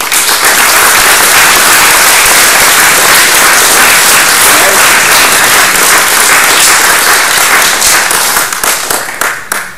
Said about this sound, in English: come up for a round of applause